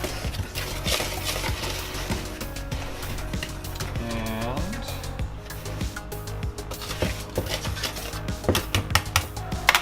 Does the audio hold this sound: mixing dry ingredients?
yes